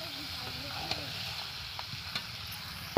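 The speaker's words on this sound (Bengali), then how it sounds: "ভেজে রাখা আলু আর লাউগুলো আমি এর মধ্যে দিয়ে দেবো। দিয়ে আরেকটু আমি সব কিছু মিশিয়ে নেব।" Meat curry with fried potatoes and bottle gourd is stirred in a hot pan, a continuous sizzle and frying hiss broken by a few scraping clinks of the spoon, close and steady.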